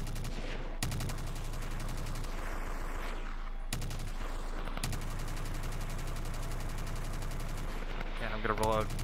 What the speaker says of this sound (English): whenever these guys are firing, defending team, you guys can then go ahead and move up